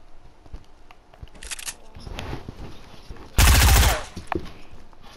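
Gunfire in the video game Fortnite: a few light shots, then a loud, sharp burst of rapid fire lasting about half a second, with quieter clicks and thuds around it.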